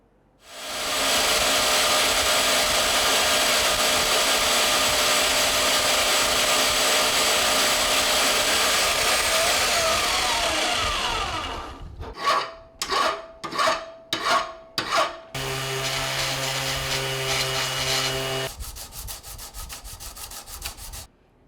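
Sanding the sole of a wooden miter plane flat makes a long, steady, loud abrasive rasp. A run of short rhythmic rubbing strokes follows, then another sustained sanding pass with a low hum beneath it, all close and without speech.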